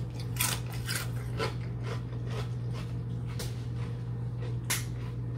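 Salt and pepper kettle chips eaten with a homemade dip, giving a run of sharp, close crunches at an irregular chewing rhythm over a steady low background hum.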